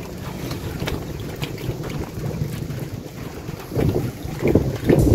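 Strong wind with rain buffeting the microphone at a fishpond, low rumbling gusts that build louder toward the end, outdoors with no talking.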